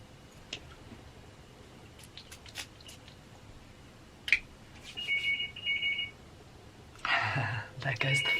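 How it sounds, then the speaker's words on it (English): An indoor telephone rings twice in short electronic trilling bursts at moderate volume, with faint rustling and handling noises in the quiet moments before. "There goes the phone. There's always the phone."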